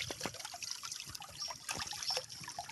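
Fresh water trickling from a natural spring, a soft, close, continuous dribble with small splashes and bubbling, no talking.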